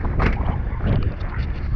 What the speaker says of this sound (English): it's definitely gotten windy